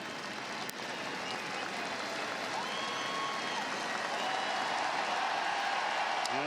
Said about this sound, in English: And an ovation from this crowd.